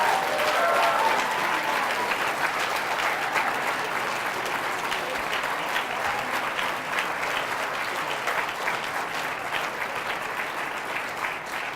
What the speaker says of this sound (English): I didn't want to interrupt your applause because well-deserved.